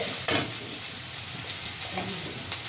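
Onion and garlic sizzle and crackle in hot oil, with a spatula scraping and stirring the pan now and then.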